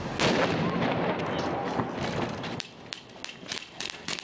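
Gunfire during a police training exercise, a dense burst of loud rapid shots at first, then scattered sharp single reports with short gaps between them, with voices faintly audible underneath.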